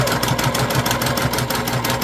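An electric sewing machine stitches a fabric pencil pouch, its motor humming loud and close with a fast, even needle rhythm running continuously without pause.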